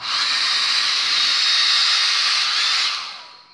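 An old hair dryer runs steadily at close range, a loud continuous hiss of blowing air that holds for about three seconds before winding down.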